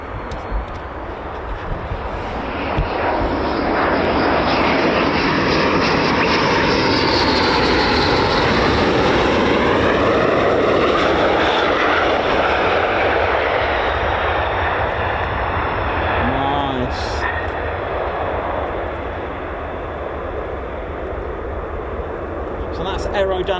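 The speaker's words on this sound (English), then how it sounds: "So that's aerodynamic braking, or wheelies as we call them here, but now this is actual aero braking." A US Air Force F-15 or F-35 fighter jet roars loudly down the runway at RAF Lakenheath while landing with aerodynamic braking, a sustained broad engine rush that swells and slowly recedes, with a person talking over it.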